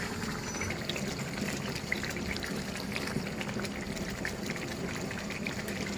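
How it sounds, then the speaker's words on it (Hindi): Water poured into a pan of egg white korma while cooking, a soft, steady pouring and trickling sound that runs continuously at low volume with no talk over it. "हम थोड़ा सा तकरीबन 1-2 टेबलस्पून हम डालेंगे पानी और इसको ऊपर से ढक देंगे"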